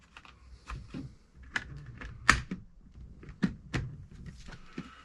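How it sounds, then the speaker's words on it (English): A visor on a Shoei RF-1200 helmet is pressed back onto its mount, giving a series of sharp plastic clicks and snaps, close and distinct against near silence. "the click sounded good, right? Sounded positive"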